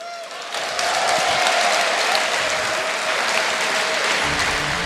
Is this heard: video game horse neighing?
no